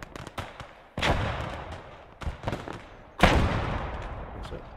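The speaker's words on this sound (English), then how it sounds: "we're taking heavy fire" Heavy gunfire in the WWII game Gates of Hell: Ostfront during the invasion of Poland, a few loud sharp shots and bursts with echoing tails, close and powerful, over a steady battlefield background.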